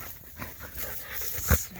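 A Bernese mountain dog close by gives soft, brief whimpers and snuffling breaths amid outdoor background noise, with one short thump near the end.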